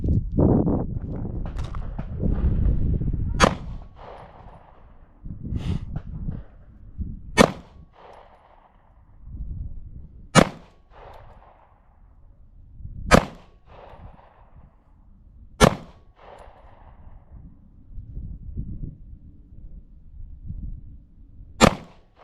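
An IWI Masada Slim compact pistol fires single shots at a range, seven or eight sharp, loud cracks spaced a few seconds apart, with quiet shuffling and handling noise between them.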